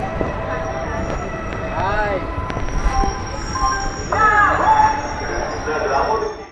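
Simhadri Express 17239 pulls out of Anakapalli station with a steady rolling rumble, faint squealing wheel tones and sustained high whine, while a person talks over it.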